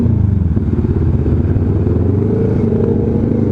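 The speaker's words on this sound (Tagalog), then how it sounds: "May big bike sa likod natin" A four-cylinder 650 big bike motorcycle runs close behind on the road, its steady engine drone loud and continuous throughout, with no talk over it.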